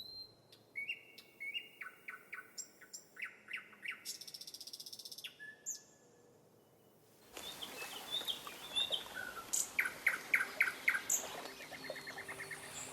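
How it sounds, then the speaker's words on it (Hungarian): A nightingale sings alone in a riverside forest along the Tisza, repeated bright phrases, clear and fairly close, with a brief quiet gap before a denser stretch of rapid notes. "a nagy fülemüle dalolni kezd a tiszaparti erdőben"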